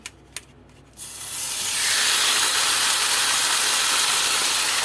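Beef and rice dropped into hot oil in a wok, a couple of soft knocks and then a sudden loud, sustained sizzling hiss and spatter that swells and stays strong and close, with no voices.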